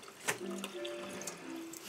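Water runs quietly from a sink tap as a tile coaster coated with titanium dioxide is rinsed off, a faint, soft splashing stream with a few small drips.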